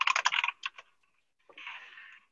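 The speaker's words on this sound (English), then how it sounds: "You all get to hear me use my mechanical keyboard." Keys on a rainbow mechanical keyboard clack in a quick burst of typing, then a few lone taps, a short pause and a final run of keystrokes, close and crisp.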